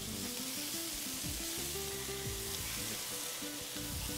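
Tomatoes and other vegetables seasoned with pepper and salt sizzle on a hot grill beside veal liver, a steady close frying hiss throughout with a faint low tonal hum beneath and no talk.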